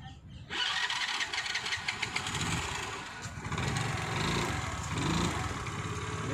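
A scooter engine catches after a short start attempt and keeps running, a loud, steady close-up buzz with slight rises and dips in speed.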